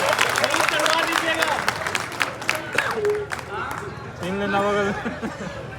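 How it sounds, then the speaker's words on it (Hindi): Audience at a kavi sammelan, a Hindi poetry gathering, breaking into scattered applause and crowd noise beneath a performer's continuing speech, the clapping mixed with chatter throughout. "तालियां बजाइए, यहाँ से चालू होता हूँ।"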